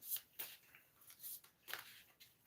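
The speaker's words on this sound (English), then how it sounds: "I'm going to pull another one of these cards" An oracle card deck is shuffled and a card pulled, giving quick, faint riffling and sliding bursts that come in short irregular flurries in a quiet room.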